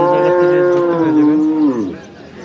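A large cow at a busy cattle market in Chandpur lets out one long, loud, close moo that slides down in pitch and fades near the end, with no talking over it.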